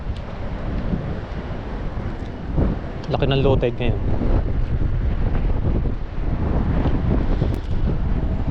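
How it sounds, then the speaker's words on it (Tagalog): Strong wind buffets the microphone at a shoreline during fishing, a steady roaring rumble with waves in the background while people talk throughout. "Lakas po ng hangin."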